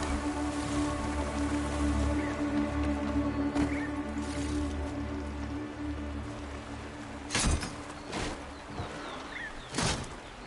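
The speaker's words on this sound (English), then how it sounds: "There's the rain." Rain patters steadily on surfaces in a Horizon Forbidden West game scene, a soft continuous wash with a few louder thumps and noises near the end.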